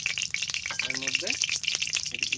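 Ghee heating in a pan for pulao, a close, bright crackling sizzle that runs steadily, with a voice talking over it.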